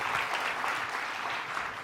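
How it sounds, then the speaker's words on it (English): A conference audience breaks into a brief, steady burst of applause, many hands clapping together at moderate volume throughout. "Little round of applause for this guy."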